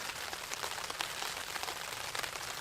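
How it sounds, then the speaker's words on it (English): Heavy rain drums steadily on a Cuben fiber tarp during a stormy, windy overnight camp, a dense close patter with occasional louder drop bursts and no talking. "listen to that rain outside"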